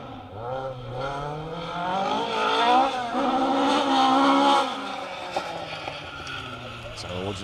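A 2-litre Mark II Ford Escort rally car on a Severn Valley Stages rally stage in Wales revs hard and shifts up through the gears close by, engine note rising and falling, with a commentator talking over it.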